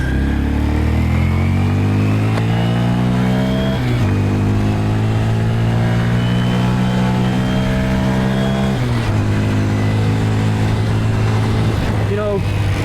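A Honda Grom motorcycle rides on a snowy, icy road, its engine droning loud and close with rising and falling revs, dropping pitch near 4 and 9 seconds, while a rider talks over it.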